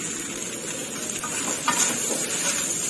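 Glass noodles stir-fried in a pan give a steady, loud, close sizzle with soft stirring and scraping throughout, and no voices.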